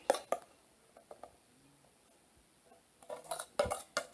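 A utensil stirs keto dessert filling in a bowl, producing a few soft scrapes and clinks at the start, a quiet pause, then a denser cluster of taps and knocks near the end, close and fairly faint.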